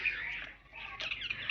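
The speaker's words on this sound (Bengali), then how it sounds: "পাখি বসেছে গাছে" A bird perched in a tree gives a few quick, thin chirps, faint and somewhat distant, in a brief outdoor moment with no one talking.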